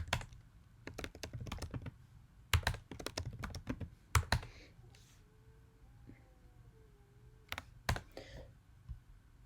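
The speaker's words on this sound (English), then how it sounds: "we're going to be just typing in this information here" Bursts of quick keystrokes on a computer keyboard, close and crisp, come in several clusters separated by quiet pauses, while a voice speaks faintly in the background.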